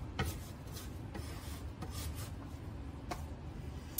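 A bench scraper works biscotti dough on a floured surface, giving soft, quiet rasping scrapes in a few separate strokes with a low room hum underneath.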